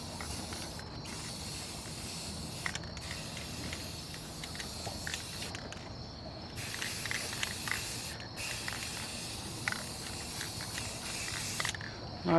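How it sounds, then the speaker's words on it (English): Continuous hissing of spray paint from a can, steady and close, with brief pauses between bursts and some faint mechanical rattling. "I'm going to finish spray painting this up"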